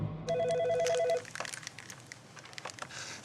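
A telephone rings with a short, rapid electronic trill lasting about a second, fairly quiet, followed by soft rustling and handling noises.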